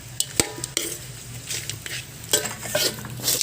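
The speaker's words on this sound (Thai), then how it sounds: "มาคั่วไปนะคั่วไปครับ อ่าคั่วไปเรื่อยๆพี่น้อง" Chicken stirred and tossed in a pan with a metal utensil, giving irregular scraping clanks and clatters over a low sizzle, close and moderately loud, with no voices.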